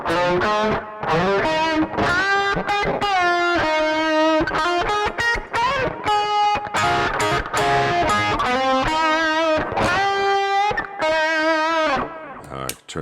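An electric guitar through a British-style distortion pedal plays loud, sustained chords and riffs with a thick, crunchy tone, continuous throughout with brief pauses near the end.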